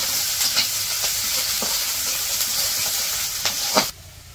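Onion and green chilies frying in hot oil in a wok, a loud continuous sizzle with scraping stirs every second or so, ending abruptly.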